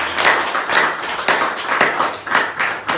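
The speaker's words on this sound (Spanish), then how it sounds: "Den un fuerte aplauso a nuestra Santa Muerte de florecimiento espiritual." An audience at a Santa Muerte religious ceremony claps, a close, moderately loud patter of hands with rhythmic pulses that holds steady over a few seconds.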